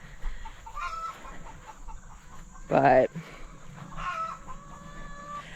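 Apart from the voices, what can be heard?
chickens clucking loudly in cages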